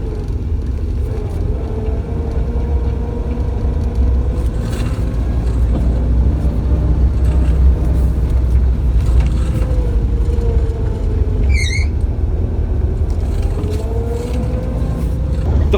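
Toyota Starlet KP60 small car driving, with a steady low engine drone and rumble that rises and falls gently throughout, continuous and fairly loud.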